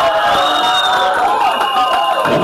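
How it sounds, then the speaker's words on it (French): Wedding guests at a civil marriage ceremony in Gabon cheer and clap together in a loud, steady burst of crowd noise with whoops, continuous through the moment. "On applaudit, mesdames, messieurs."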